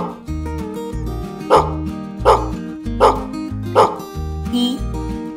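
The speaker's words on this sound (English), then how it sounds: "D is for dog." A cartoon dog barks four times in an animated alphabet song for kids, each short bark landing on the beat over a loud, steady musical backing with no talk.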